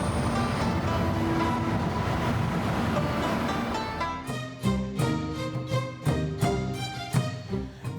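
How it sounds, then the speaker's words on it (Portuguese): A Japanese Shinkansen bullet train rushes past, a steady loud roar in the first half giving way to a rhythmic series of clattering thumps as the cars go by. "Outro símbolo é o trem-bala. A velocidade pode chegar a 300 quilômetros por hora."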